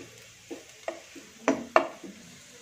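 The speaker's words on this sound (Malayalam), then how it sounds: "രണ്ട് ഒരു കാൽ ടീസ്പൂൺ മഞ്ഞപ്പൊടി, ഇതൊന്ന് ചെറുതായിട്ടൊന്ന് മിക്സ് ചെയ്ത്" A spoon stirs turmeric powder into beef bone soup in a pot, giving a few separate scraping knocks and clinks at an uneven pace, close and moderately loud, with no talking.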